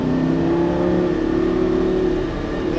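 Lamborghini Gallardo LP550 engine pulling hard on a race track, a loud sustained droning roar with steady pitch from inside the car, no talk over it.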